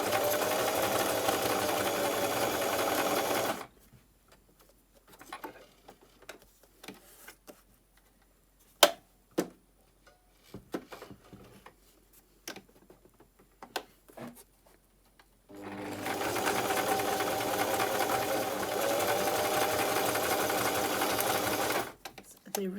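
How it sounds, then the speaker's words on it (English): Sewing machine stitching around a paper piece, a steady close mechanical whir that stops for a long stretch of ticks, taps and handling noises, then starts up again, with speech in the quieter part. "I do want to sew around that piece, so there will be sewing there"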